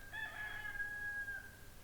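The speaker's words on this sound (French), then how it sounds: "poules et des coqs" Rooster among hens in a garden giving a single fairly faint, distant cock-a-doodle-doo crow of about a second and a half over light outdoor background noise.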